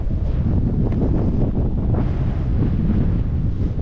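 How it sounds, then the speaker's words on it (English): Strong, steady wind buffets the microphone in a high-altitude volcano crater valley with palm trees, a constant loud roar filling the whole stretch without letup. "I don't know if you'll be able to hear me, the wind is very high."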